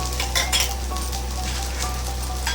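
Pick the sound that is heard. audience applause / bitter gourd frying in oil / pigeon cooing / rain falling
bitter gourd frying in oil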